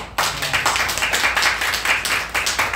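A church congregation at a Christmas service claps together, a dense, steady burst of many hands starting abruptly and continuing evenly at close range.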